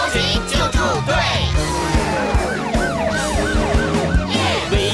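Siren wail in a children's song about rescue vehicles, where an ambulance carries patients to hospital: repeated rising and falling siren sweeps, loud and prominent, layered over bouncy music and sung voices.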